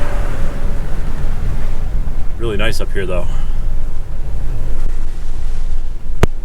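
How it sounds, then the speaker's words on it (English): Strong wind roars and buffets the microphone steadily on cold Grandfather Mountain, North Carolina, with a person speaking briefly through the gusts. "Quite windy though."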